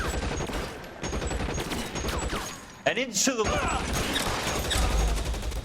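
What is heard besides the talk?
gunshots in the video game L.A. Noire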